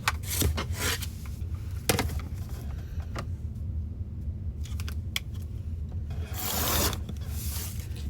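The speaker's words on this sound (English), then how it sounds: "And now I'm going to trim all of the straight lines all the way around" Fabric half-square triangles for quilting are trimmed with a series of short cutting and rubbing strokes, each crisp and close, spaced unevenly over a quiet background.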